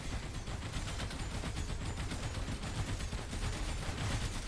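Enemy gunfire from the Dark Fog early in Dyson Sphere Program: rapid, dense bursts of shots rattle on continuously at moderate distance, with no voices.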